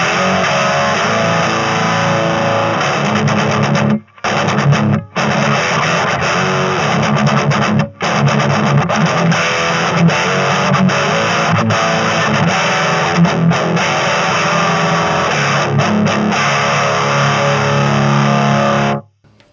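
Bass guitar driven through two stacked distortion pedals into a 1968 Fender Bassman amp, giving a loud, crunchy, saturated tone played continuously with a few brief gaps, heavy metal style.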